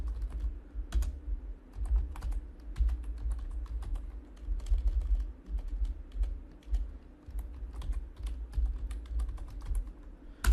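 Bengali text typed on a computer keyboard, with a steady run of close key clicks and brief pauses over low room hum.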